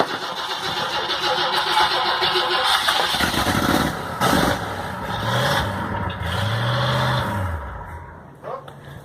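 A 1965 Ford Thunderbird engine on bad gas cranks with a rough, sputtering rhythm, nearly catches several times with rising revs, then falls away, loud and close with no talk.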